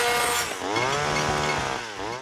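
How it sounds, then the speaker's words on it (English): Chainsaw in a Family Guy cartoon scene, revving loud and close with rising and falling engine pitch for a couple of seconds. "Turn that chainsaw off!"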